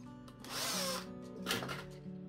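A power drill whines loudly up close as it bores into wood, its motor pitch wavering as the bit cuts through.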